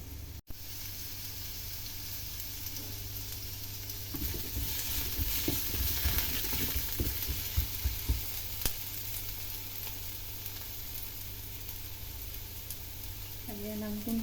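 Sliced zucchini frying in a pan gives a steady, close sizzle, with stirring and scraping in the middle stretch and a light clink near the end.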